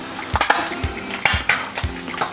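An egg and cheese crust crackles and sizzles in a pan, a close, steady frying hiss punctuated by repeated low knocks and scrapes of a utensil against the pan, with no talk.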